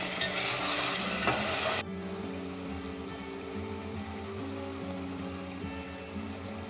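Chicken liver fries over a high flame, a loud bright sizzle for the first two seconds that drops abruptly to a softer, steady frying hiss with a low hum beneath, and nobody speaks.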